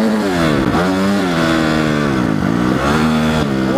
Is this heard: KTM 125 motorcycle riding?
yes